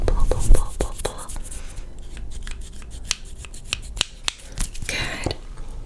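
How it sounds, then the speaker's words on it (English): Wooden scissors snip hair during a fast, aggressive ASMR haircut, a series of close, crisp cutting clicks spaced irregularly over soft rubbing and a quiet voice. "I'm gonna get the wooden scissors first for this part."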